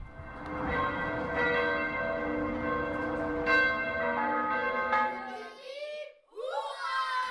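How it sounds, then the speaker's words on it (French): Church bells ring steadily with a rich, sustained tone for several seconds, then fade as a crowd's voices rise and swell. "suit bientôt le tintement des cloches"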